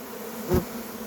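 Honeybees buzz around an opened beehive, a steady close hum that swells briefly in the middle before settling back.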